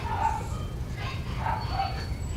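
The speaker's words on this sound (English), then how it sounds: "You can hear our dogs in the house there getting a little rambunctious." Several dogs bark and yip indoors in short bursts, heard through a wall at moderate distance over a steady outdoor background.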